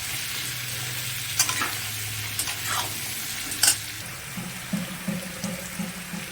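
Potatoes frying in a pan, heard as a steady low sizzle with a few scraping stirs of a spoon against the metal, close and fairly loud, with no talking.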